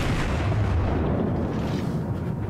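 Heavy torpedo explosions from a naval combat video game roll together into a dense, continuous low rumble, loud and sustained with no clear gaps.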